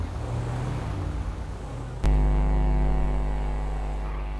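A stolen BMW car drives in GTA V with a steady low engine drone. About halfway through the tone jumps to a louder, smoother hum that then holds steady without talk.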